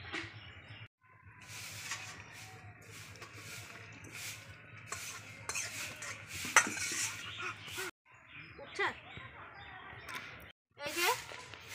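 Pot being lifted off the stove after simmering a village-style fish curry of bata fish with bottle gourd greens: light metallic clinks and scraping of cookware in a quiet kitchen, with short silent breaks.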